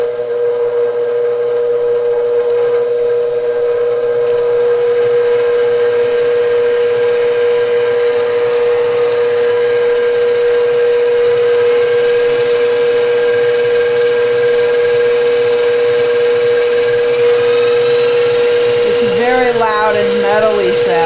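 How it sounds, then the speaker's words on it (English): A brand-new KitchenAid stand mixer, similar to a Pro 600, running at a steady loud whine with a constant metallic hum and hiss throughout, with a brief warbling squeal near the end. "So we have a brand new KitchenAid in the house. Sounds just like a Pro 6."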